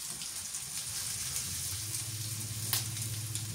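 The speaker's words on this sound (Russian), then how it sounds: "Вот они как шкварчат." Buckwheat patties and potatoes sizzling together in a frying pan, a steady close hiss and crackle with a low bubbling undertone running throughout, no voices.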